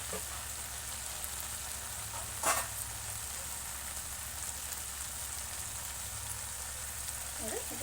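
Cooked kidney beans drop into a hot pan of rajma curry masala with a steady sizzle, a brief louder splash partway through, then continuous frying.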